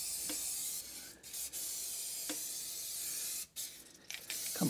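PB Blaster penetrating oil sprayed from an aerosol can on an Escalade's strut work, a loud steady hiss broken by a few short pauses between bursts.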